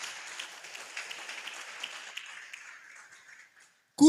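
Church congregation applauding in praise during a worship service, a steady mid-level wash of many hands clapping that thins and fades out over about three seconds, followed by near silence.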